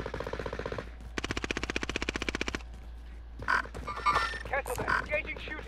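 Rapid automatic gunfire in a shooter video game, two bursts of evenly spaced shots, the second longer and more regular, followed by mixed game sounds and a voice speaking.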